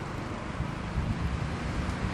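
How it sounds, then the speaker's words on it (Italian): Warm southerly sirocco wind gusts outdoors in the medieval quarter of Viterbo, Italy, producing a steady, close buffeting rumble across the microphone with no voices. "c'è un po' di vento"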